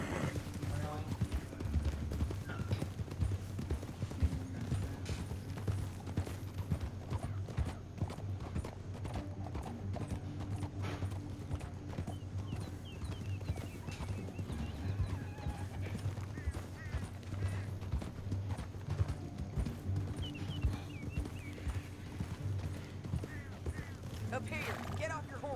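Horse hooves clip-clop steadily through the Red Dead Redemption 2 game world, a rhythmic clatter layered under game music and ambience, with occasional whinnies and voices talking.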